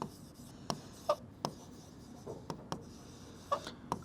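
Pen strokes on paper while writing out the quadratic formula by hand: quiet, close, irregular taps and short scratches spread across a few seconds, with no talking.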